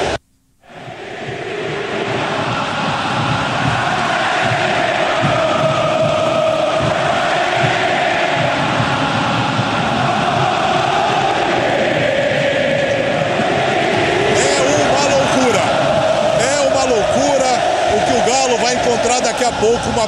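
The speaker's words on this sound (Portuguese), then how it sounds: "a torcida do River vai à loucura aqui no Monumental de Núñez" River Plate fans pack the Monumental de Núñez stadium, a dense, loud crowd roar that swells in at the start and holds steady with chanting and cheering throughout.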